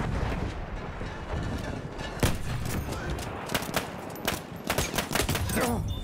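Kolibri pistol gunfire in a video game: sharp, rapid shots crack out over a dense, constant din of battlefield gunfire and explosions, with several louder bursts clustered near the end.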